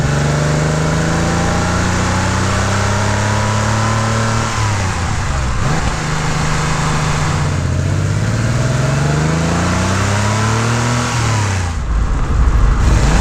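A Porsche 911 3.2 Carrera flat-six engine, heard loud and close, rises and falls through several gear changes, with a rev-match blip during a downshift before the car pulls away and accelerates.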